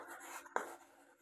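Short scratchy strokes of writing math working on a board during a class 5 lesson, faint and close, with a sharp tap midway.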